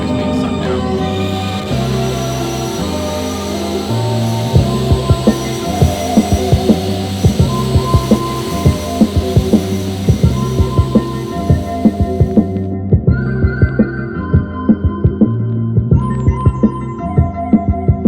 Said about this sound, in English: there's a vacuum system that sucks it up through the tube and into the hopper